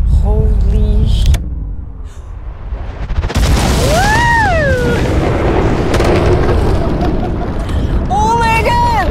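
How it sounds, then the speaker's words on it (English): A mining blast goes off as a sudden loud broadband boom that rumbles on for several seconds, while people nearby shout and exclaim excitedly over it. "The shot has been fired."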